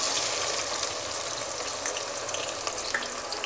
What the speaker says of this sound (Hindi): तो ऑयल जब गर्म हो जाएगा तो हम इसमें प्याज डाल देंगे